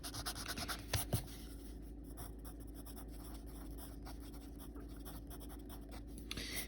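A pen scratches out a line during a geometry lesson on angles measured from the horizontal line of sight, a faint, dry scraping with a few brief sharper strokes.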